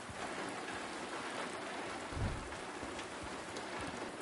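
Steady rain pours down in the Silent Hill 2 Remake, a dense hiss of drops on surfaces with a brief low rumble near the middle, no talking.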